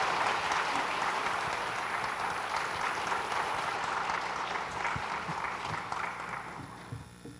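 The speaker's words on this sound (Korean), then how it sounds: "박수로 함께 축하하도록 하겠습니다." Congregation in a church Sunday Christmas service applauding together, a steady wash of many hands clapping that holds for several seconds and slowly thins toward the end.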